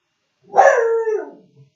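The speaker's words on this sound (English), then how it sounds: "That dog will bark at anything." A dog gives one loud, close bark that stretches into a short howl-like yowl, alone in an otherwise quiet room.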